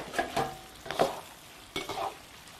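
Rice tofu stir-fried in a wok with cured pork, ginger, dried chilies and Sichuan peppercorns, close by: three quick scraping stirs of the spatula over a soft sizzle, evenly spaced, with no talking.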